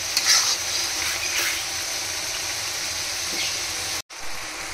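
Sliced onions with ginger-garlic paste and a little chilli sizzle steadily in a pan while being stirred, with occasional scraping, before a brief cut in the sound near the end.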